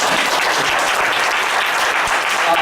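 Church congregation applauding a youth ministry pastor during a Sunday worship service, a loud, dense burst of many hands clapping continuously without pause.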